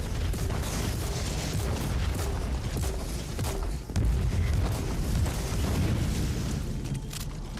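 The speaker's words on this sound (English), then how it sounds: "grenade launcher time." Repeated grenade launcher blasts and booming explosions in the action game Warhammer 40K: Inquisitor - Martyr, a dense, loud and continuous barrage of impacts with mechanical clatter layered throughout.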